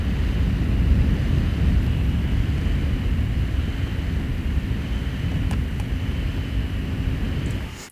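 An HP Omen 17 laptop fan runs at idle speed, a steady close-miked whoosh with a low hum and a faint pulsating quality, continuous without talk.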